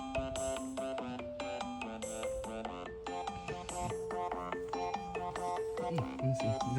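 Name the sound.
phone ringtone, incoming call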